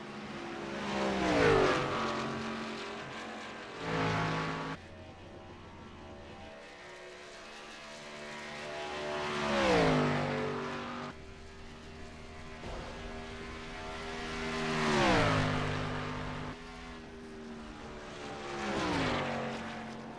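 Race cars lapping a circuit, passing one after another at a distance with rising and falling engine whines that swell and Doppler down roughly every few seconds, under a steady background hum.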